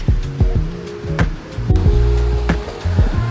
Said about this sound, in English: I'm going to wash these off out here and you can watch.